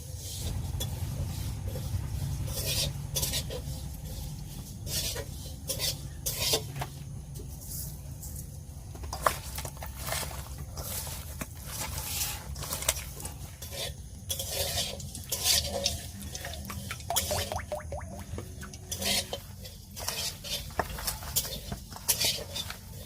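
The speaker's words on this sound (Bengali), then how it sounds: "আমার এই মশলাটা ভাজা হয়ে গেছে" A spice paste frying in a pan while being stirred, with repeated scraping and clattering strokes over a low crackle, and people talking faintly in the background.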